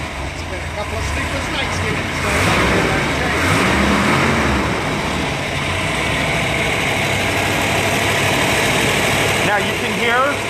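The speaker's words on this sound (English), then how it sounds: "This is a solid lift engine, so it's always going to have a little bit of valve chatter" A 1967 Corvette with a solid-lifter engine idles steadily and fairly loud, a light valve chatter ticking through the rumble, with voices talking nearby.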